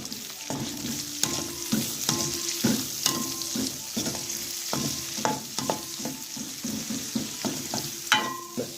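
Onions sauté in a pan for a green bean and coconut milk curry, sizzling steadily while a spatula clacks against the pan in irregular strokes throughout, close and moderately loud.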